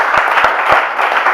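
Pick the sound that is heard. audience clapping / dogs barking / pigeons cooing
audience clapping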